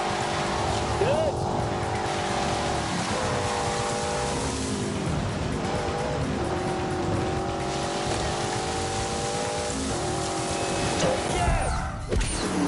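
A BMW on a race track keeps up a continuous engine drone with rising and falling tones as it accelerates and shifts, loud and steady throughout, with some tire noise near the end.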